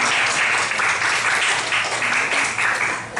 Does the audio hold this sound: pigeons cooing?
no